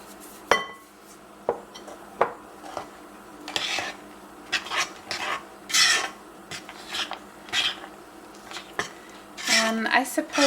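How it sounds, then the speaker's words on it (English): Flour added to buttermilk raisin cake batter, with repeated clinks of a spoon or cup against a bowl and brief scraping and stirring bursts, close and intermittent, while a person talks throughout. "now it's time to add in some flour"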